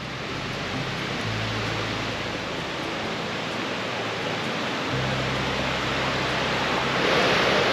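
A small waterfall in Newry, Maine rushes continuously, a broad even roar of falling water close by with a faint low rumble underneath, and no talking.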